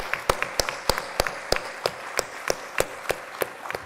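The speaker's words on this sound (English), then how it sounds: "please join me in a final round of applause for this excellent roundtable" Conference audience applauding a roundtable panel, a thin scatter of distinct hand claps at an uneven rhythm from a small crowd, moderately near and steady throughout.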